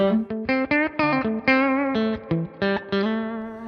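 Electric guitar through a Fender Twin Reverb Tonemaster amp with reverb, a run of plucked single notes and short phrases, each ringing with a lush reverb tail, clear and up close with no talking.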